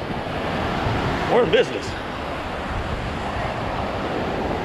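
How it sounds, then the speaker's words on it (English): Ocean surf washing onto a beach at sunrise on the Outer Banks, a steady broadband roar with some wind buffeting, while someone speaks briefly partway through. "Beautiful ocean out here."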